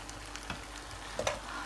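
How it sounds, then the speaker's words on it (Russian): Spoon stirring pesto pasta of penne with chicken and mushrooms in a pan, a few soft scraping and clinking strokes with faint sizzling underneath, close and quiet with no talk. "Мешать лучше всего вот этой."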